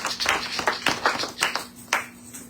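A church congregation claps in a quick, uneven burst of handclaps, fairly close and moderately loud, lasting a couple of seconds with no talk over it.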